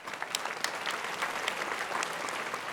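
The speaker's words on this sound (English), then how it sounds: "I hope that you could all give them a round of applause and say thank you." Audience applause for sponsors at a multiple sclerosis summit in Nashville, a dense, even roar of many hands clapping that holds steady throughout, unbroken by speech.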